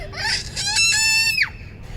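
A child screams loudly and close by on a balcony, a high wavering shriek lasting over a second that rises and then breaks off, with faint background noise.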